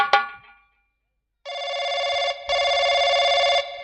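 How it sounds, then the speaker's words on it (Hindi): A telephone bell rings in a staged comedy scene, two sustained trilling bursts with a short gap between them, loud and clear, after a brief voice exclamation at the start. "घंटी जाती है।"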